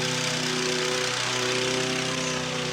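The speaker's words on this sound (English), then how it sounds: "Is this the final boss of lawnmowers?" A lawn mower engine runs close and loud with a steady buzzing drone and strong tonal hum, unbroken throughout, with no talk over it.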